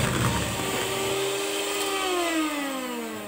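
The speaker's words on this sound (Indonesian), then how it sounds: "Lalu mixer sampai putih berjejak. Dengan kecepatan tinggi ya." An electric hand mixer whirs at high speed through pandan sponge cake batter with sugar, vanilla and emulsifier, a steady loud motor drone whose pitch slides down near the end.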